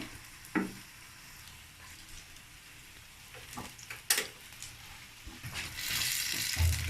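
Banana cakes (pitha) fry in a pan of oil with a soft continuous sizzle, broken by a few sharp utensil clicks and scrapes and a louder hiss swelling at the end.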